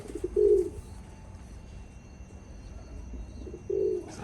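Two soft, low pigeon coos from a loft holding about seven birds, one near the start and one near the end, over quiet background hum in an enclosed space.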